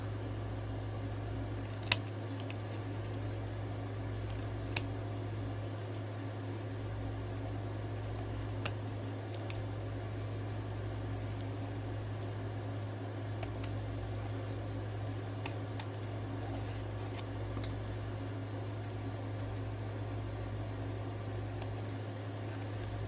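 Scissors cut a printed sticker out of sticker paper. Sparse, faint, sharp snips come at irregular intervals over a steady, loud fan-like hum.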